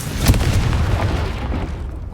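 A Confringo blasting spell detonates in Hogwarts Legacy with one loud, close boom that fades into a rumbling decay.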